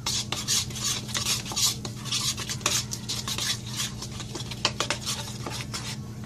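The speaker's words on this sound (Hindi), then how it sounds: "अब हम इस सारे मिक्सचर को अच्छी तरह मिक्स कर लेंगे।" A chicken marinade paste is stirred and mixed with lemon juice in a bowl at home, giving a continuous wet scraping and rubbing of a spoon against the bowl, close and steady, with no talk.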